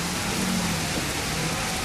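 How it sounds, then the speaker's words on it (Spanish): Steady, dense rain falls in a Jurassic Park video game, a constant even hiss with no breaks or thunder across the whole stretch. "cómo está lloviendo"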